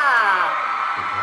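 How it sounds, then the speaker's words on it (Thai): A crowd screams and cheers for two performers at a Thai skincare launch event for "Reset Your Skin with Black Tea." The loud, high-pitched mass of voices swells and slowly slides downward, then a lower voice comes in at the end. "เสียงกรี๊ดดังๆให้น้องสองคนอีกสักครั้งหนึ่งค่ะ"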